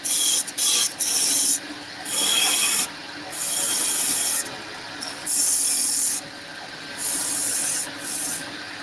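A woodturning tool cuts a cove and chamfer into spinning wood on a lathe, a close raspy scraping in repeated bursts of a second or so with brief pauses between passes.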